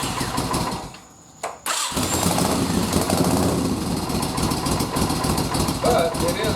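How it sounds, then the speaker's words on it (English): A restored 1987 1400 motorcycle engine cranks briefly, catches after a short pause, then settles into a loud, steady, rumbling idle that continues to the end. "I can even fire it up. It's a good sounding bike."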